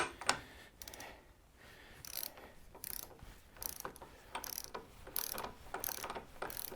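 Torque wrench tightening a bolt on a Harley Sportster/Dyna motorcycle fork, a series of close, crisp ratcheting clicks in irregular bursts with short pauses between strokes, no talking.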